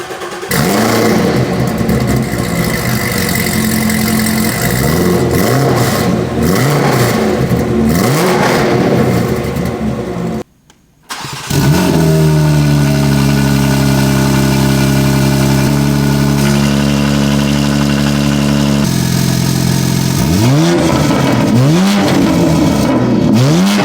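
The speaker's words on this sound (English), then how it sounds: "we're gonna do a little startup and rev test for you guys to show you the difference" A BMW G80 M3 and a Chevy Camaro ZL1 with a V8 start up and rev in turn: loud repeated throttle blips rising and falling, a brief cut, then a deep steady idle before more revving.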